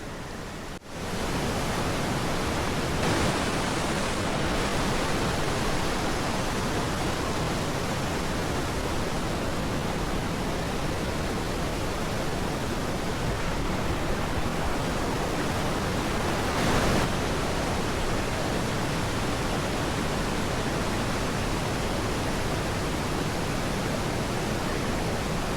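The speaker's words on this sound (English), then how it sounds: "There is a pretty waterfall, and the water is super clear." Waterfall on a hiking trail near Margaret Creek, a continuous broad roar of falling clear water, loud and steady throughout with no voices.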